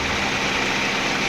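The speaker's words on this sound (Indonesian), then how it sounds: "Bisa didengarkan ini suara mesinnya halus, tidak ada suara aneh-aneh kan." An old car engine idles smoothly and steadily nearby, a constant even hum with no knocks or sputters throughout.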